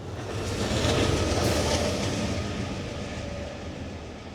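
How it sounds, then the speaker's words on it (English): A train rolls along mainline railway tracks beside a station near Medford, a broad steady rumble with a faint clatter that swells then eases slightly as it passes, fairly distant. "The station is right next to mainline railway tracks, over there, over which operate commuter services to Lowell and Amtrak Northeastern services to Brunswick, Maine"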